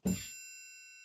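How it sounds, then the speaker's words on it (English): A virtual orchestral triangle rings out with a single bright strike, its metallic tone sustaining cleanly and fading slowly on its own. "they got to play the triangle"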